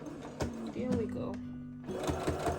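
A home sewing machine stitches thin nightgown fabric in short bursts with brief pauses, its motor whirring nearby while someone talks over it.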